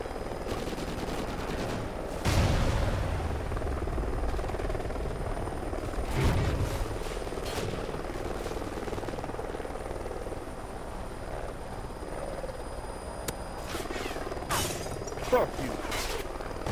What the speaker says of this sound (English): Helo scout on the way.